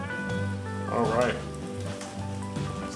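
Pretzel-coated fish pieces frying in hot oil give a soft, steady sizzle and crackle, faint and continuous beneath a tonal hum and brief voice-like sounds.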